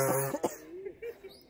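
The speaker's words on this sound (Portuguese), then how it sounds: "Quem que deu essa tosse?" Someone on an amateur football pitch gives a short, raspy cough close to the recorder. Softer throat sounds and brief vocal noises follow it.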